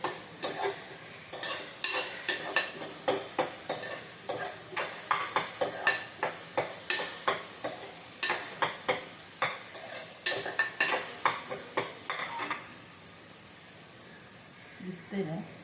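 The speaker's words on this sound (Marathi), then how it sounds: "पहिला कांदा परतून घ्यायचा चांगला, मस्तपैकी कांदा परतून घेतला." Onion frying in a pan with turmeric and asafoetida, a spatula scraping and stirring in quick repeated strokes over a soft sizzle, stopping near the end.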